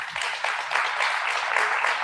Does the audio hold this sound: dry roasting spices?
no